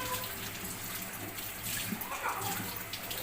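Leaves are rinsed under running water from a tap, a continuous, moderately loud flow with splashing and small variations as the leaves are moved about in the stream.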